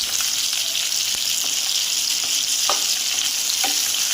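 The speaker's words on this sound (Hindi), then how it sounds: "इसको हम फ्राई करेंगे।" Chopped onions, about three medium ones for two kilos of chicken, fry steadily in a karahi for chicken white karahi: a continuous dense sizzle with a few faint stirring clicks, close and loud, with no voices.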